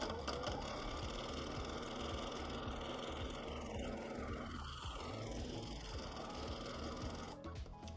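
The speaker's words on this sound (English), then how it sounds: "I'm going to stitch backwards and forwards" A sewing machine runs continuously while free-motion quilting an appliqué basket with straight back-and-forth lines, a steady close mechanical whir with a fast stitching rhythm.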